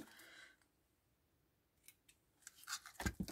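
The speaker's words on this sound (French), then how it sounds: "Alors, je vais couper une petite longueur." Scissors snip through a short length of scrapbook album material: quiet handling at first, then a cluster of crisp, close cutting strokes near the end.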